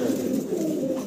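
Short face pigeons coo steadily in a loft, a continuous low murmuring with no talk.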